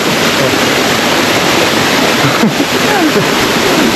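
A hidden waterfall roars as a loud, unbroken wash of falling water, close and dense, with faint voices and brief splashy accents buried beneath it.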